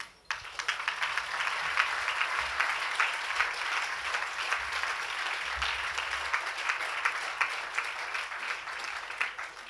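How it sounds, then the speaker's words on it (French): An audience at an African dance biennale ceremony in Senegal claps steadily for about ten seconds, a dense, even patter of many hands in a large hall that begins abruptly and holds at a moderate level. "Merci de me l'applaudir."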